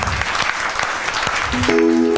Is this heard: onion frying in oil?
no